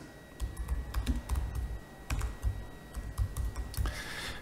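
Fast, close typing on a computer keyboard, with irregular clusters of clicking keystrokes and brief pauses, loud and uninterrupted by talk.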